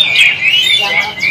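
An oriental magpie-robin (kacer) sings loud, bright, varied warbling phrases close by, continuous and unaccompanied by talk.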